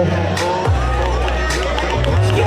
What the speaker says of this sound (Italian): Pronti a fare il tifo, parenti delle Miss?